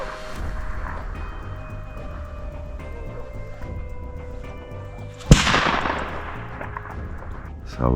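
A single sharp gunshot cracks out during a predator hunt for jackal or wolf near Tetritskaro, Georgia, then fades into a steady outdoor background.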